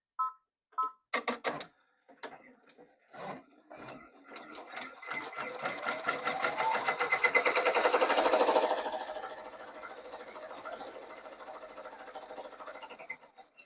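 An embroidery machine stitches cursive yarn lettering, starting with a few separate clicks and short whirs, then settling into a rapid, rhythmic mechanical stitching that builds, peaks and eases off, close and fairly loud.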